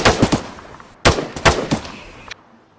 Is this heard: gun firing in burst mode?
yes